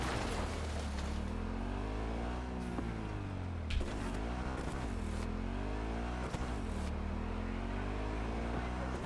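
A car is driven fast in a video game played on a Steam Deck, its engine droning loudly and continuously with repeated rising and falling revs, and nearby game effects blend in.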